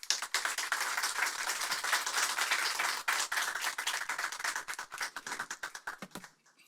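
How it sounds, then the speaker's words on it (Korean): Applause from a lecture audience at a church-related talk, welcoming the professor who delivered the lecture: dense, steady clapping from many hands that thins into scattered individual claps before dying away, with no talking. "오늘 우리 강의해 주신 우리 교수님께 우리 감사의 박수로 우리 환영하도록"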